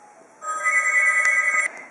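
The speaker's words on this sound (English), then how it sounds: "there goes the phone." A telephone rings indoors during a polymer clay crafting session, a steady bright electronic trill lasting over a second, fairly loud and close, with no talk over it.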